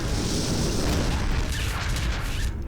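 A Star Wars: The Clone Wars explosion rumbles as a loud, dense roar with heavy low booming that holds steadily for a few seconds before easing off at the end.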